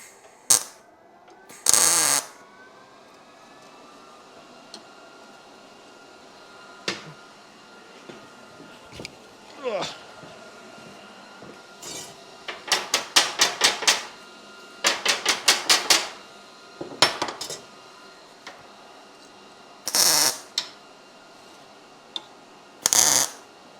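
A welder tacks old car fenders together, giving several short bursts of crackling buzz spread between quiet gaps, close and fairly loud.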